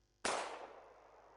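A single gunshot effect in a Hindi audiobook story, where a soldier on a parade ground fires at a mounted officer. One sharp, loud crack rings out alone, then a long reverberant tail slowly fades.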